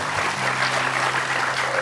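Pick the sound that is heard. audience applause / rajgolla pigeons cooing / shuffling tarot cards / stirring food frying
audience applause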